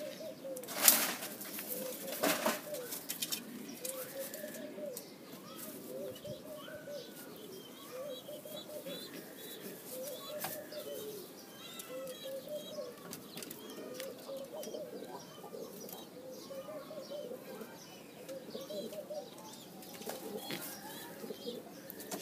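Australian pigeons coo in a soft, steady low rhythm through the whole stretch, with scattered chirps above and a brief burst of wing flapping near the start, close and moderately quiet.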